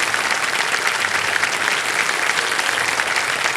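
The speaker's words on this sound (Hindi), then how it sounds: "एक बार फिर जोरदार तालियां बज जाए" Studio audience applause on a Hindi TV quiz show, Kaun Banega Crorepati season 16, a dense, steady roar of many hands clapping at full volume throughout with no gaps.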